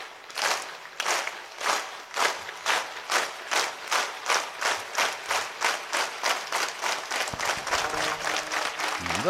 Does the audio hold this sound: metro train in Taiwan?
no